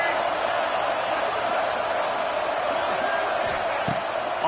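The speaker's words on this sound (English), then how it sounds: "how nice is it to have the home crowd going absolutely bananas?" Home crowd at a video-game college football matchup between Ole Miss and Arkansas roars continuously, a dense steady wall of cheering with no breaks throughout.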